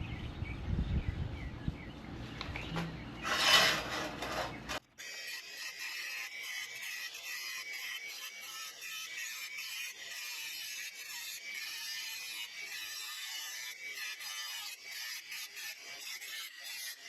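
An exhaust pipe being cut gives a rough, loud grinding rasp for a few seconds, then a long stretch of quieter, steady scraping and hiss.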